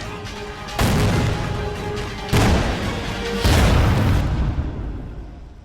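Three loud, deep booms of explosions on a film set strike in succession, each sudden blast followed by a sustained rumbling roar that slowly fades.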